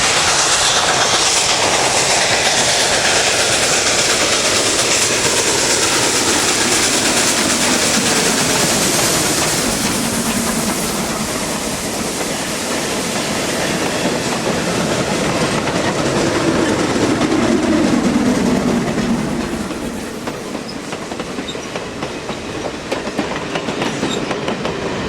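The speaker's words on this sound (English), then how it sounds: "The train slows to a stop between Niles and Dresser Bridge for the first of several run-bys." A steam train roars past at close range on a run-by in Niles Canyon, with continuous loud rumbling and rhythmic wheel clatter, the noise swelling and then easing as it moves away.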